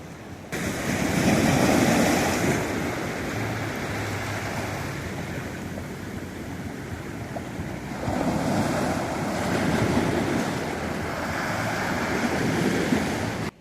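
Sea waves wash onto a beach at night in Kuantan, a steady roar of surf that swells and eases over time, with wind buffeting the microphone and no voices.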